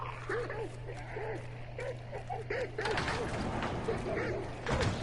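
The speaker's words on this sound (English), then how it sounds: "there's dogs here" Dogs in a video game letting out repeated yelping, whimpering cries in a regular pattern over a steady low hum, with mechanical creaks and clatter joining partway through, moderately loud.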